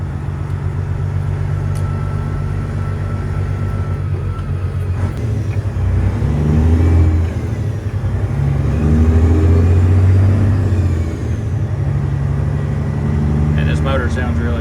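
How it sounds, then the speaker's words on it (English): A Detroit diesel engine in a Peterbilt truck runs with a steady, loud low rumble that swells and eases through the middle of the stretch, with voices speaking over it. "Motor sounds really good."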